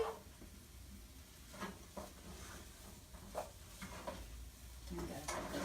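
Brussels sprouts with turkey bacon cook in a pan, giving a low sizzle with intermittent scrapes and clinks of a utensil stirring, soft and close, with occasional faint talking.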